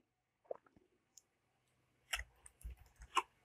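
A few sharp key clicks, then a quick burst of clustered tapping close by, like fingers typing briefly on a keyboard in a quiet room.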